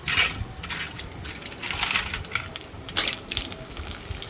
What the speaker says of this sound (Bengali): এই পাঁপড়গুলোই আমি গরম গরম ভেজে নিচ্ছিলাম এক এক করে